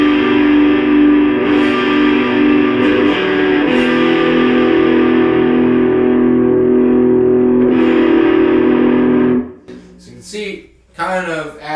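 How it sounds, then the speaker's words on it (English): Electric guitar played through the bridge pickup with the tone knob rolled off, a loud, sustained distorted chord ringing with effects for about nine seconds, then cutting off into brief, quieter picked notes. "we're going to use the bridge pickup, because it's the brightest sounding, so you'll be able to hear the difference when I roll it off."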